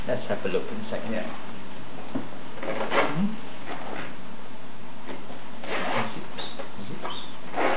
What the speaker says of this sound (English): Zips.